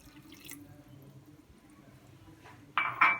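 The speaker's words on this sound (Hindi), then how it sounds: "और 1 कप पानी आप इसमें ऐड कर दें।" Water goes into a cooking pot while keema is being cooked, a few faint drips and a short splashy pour near the end, close and otherwise quiet.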